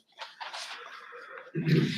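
One short, sharp sneeze bursts out in a quiet room during a village board meeting, followed by a low murmur of voices.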